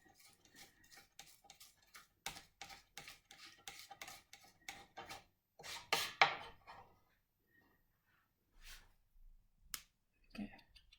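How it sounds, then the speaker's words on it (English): Garlic crushed under a knife blade on a chopping board for tomato and lentil soup: a quick series of soft scraping taps and rasps, close and fairly faint, tapering off into sparse knocks. "tip the knife on the chopping board and just squidging your garlic to crush it"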